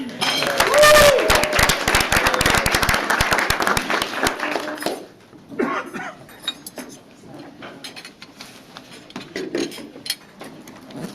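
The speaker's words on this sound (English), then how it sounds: "We get one more round of applause for our facilitator." Lunch session crowd giving a round of applause for a facilitator, dense clapping for about four seconds, then fading into scattered claps, clinking and voices in the room.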